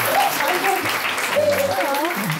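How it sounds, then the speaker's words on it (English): Wedding guests applaud the couple during a ceremony at a country club, a continuous crowd clapping that runs throughout under a voice speaking. "I think they deserve a round of applause"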